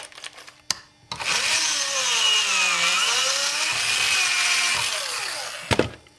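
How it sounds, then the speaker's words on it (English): A step drill bit bores out and widens a hole in a part for a homemade microphone spider mount, a steady high whining grind running about five seconds, bracketed by brief clicks and handling knocks before and after. "So I can use my step drill to open that up a little bit."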